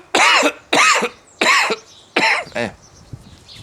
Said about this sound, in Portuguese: A tosse ainda me acompanha.